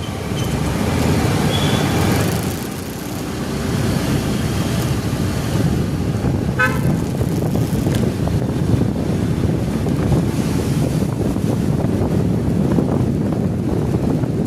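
A vehicle cruising at about 30 speed, a continuous rushing roar of wind and road noise buffeting the microphone, steady and close with a brief dip early on.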